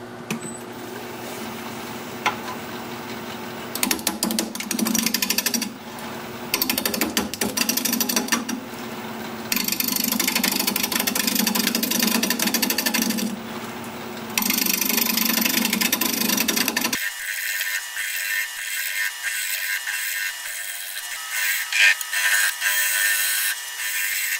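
A wood lathe spinning at 750 RPM while a spindle roughing gouge cuts a chestnut blank, giving a steady loud motor hum and rough cutting noise that stops partway, leaving only a faint high hiss.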